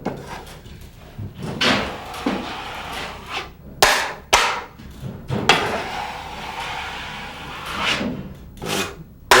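A drywall knife drags across joint compound on a wall, giving rough scraping strokes of varying length with a few sharp knocks between them, close and fairly loud, with no talking.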